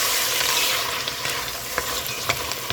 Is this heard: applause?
no